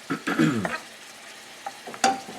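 Lamb with crushed red pepper flakes is stirred in a pan, giving a few close scraping strokes over a soft sizzle, with quiet gaps between the bursts.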